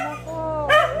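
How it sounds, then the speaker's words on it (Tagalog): Dogs barking during a squabble between two dogs, a short burst of loud, close barks and yips rising after a quieter moment while a person speaks over them. "tatahol naman po ang mga aso."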